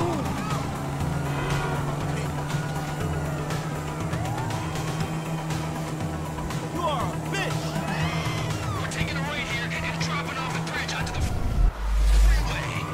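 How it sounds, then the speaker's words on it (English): In Grand Theft Auto 5, a car drives off a bridge onto the freeway. A steady engine drone runs with wailing siren sweeps and traffic noise, voices talk over it, and a heavy low thump lands near the end. "Driving off the bridge onto the freeway."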